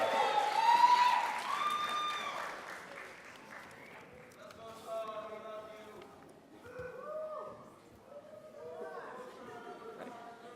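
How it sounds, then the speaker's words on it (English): Applause at a college commencement ceremony, a crowd clapping steadily, then fading under a speaker's amplified voice with some scattered cheering. "But here we say, applaud as much as you want for every single student"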